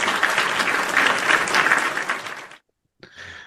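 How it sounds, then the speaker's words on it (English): Recorded audience applause for the guests on a futures-trading livestream, a dense loud burst of clapping that cuts off abruptly into silence, then a brief softer return of clapping. "let's give these ladies a round of applause right now"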